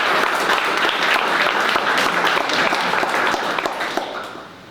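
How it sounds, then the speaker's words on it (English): An audience at a startup pitch day applauds the founders who pitched, with steady, dense clapping that holds for several seconds before fading out. "let's give one big round of applause for all of the founders who pitched"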